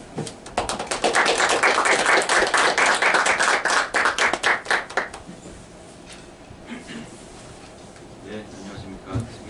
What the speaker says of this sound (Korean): 우리 김진수 교수님 나오실 때 큰 박수 맞아주시기 바랍니다.